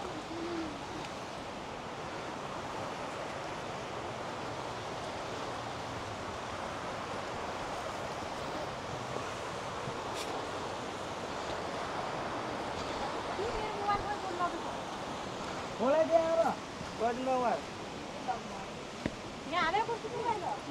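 Water rushes steadily along the Nikas stream at Birendranagar, Surkhet, a broad unbroken wash that holds even in loudness, with voices talking over it toward the end.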